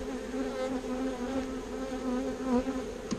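Honey bees buzz steadily around an open hive, a dense, continuous drone close by with no pauses.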